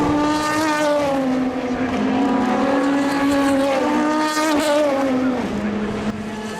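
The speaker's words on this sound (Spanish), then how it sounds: "se ven los coches muy cerca y claro, el sonido es realmente alucinante" Race cars at the 24 Hours of Le Mans pass close by with a loud, continuous high-revving engine whine whose pitch rises and falls, dropping near the end as a car moves away.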